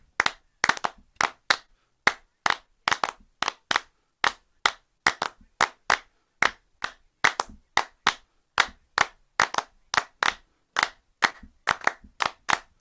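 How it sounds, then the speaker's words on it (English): Close, crisp hand claps beat out a clave rhythm with doubled claps worked into the pattern, the pairs standing out among the evenly spaced single claps, with no talking. "Get ready for the double clap."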